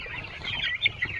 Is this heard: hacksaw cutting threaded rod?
no